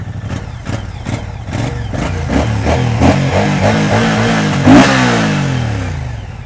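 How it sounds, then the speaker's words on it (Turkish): A Moto Guzzi V100 Mandello S V-twin motorcycle engine revs up and down, a deep throbbing rumble rising in pitch through several close, loud throttle blips. "dolu dolu bir ses bu V motorun sesi zaten bir başka güzel oluyor"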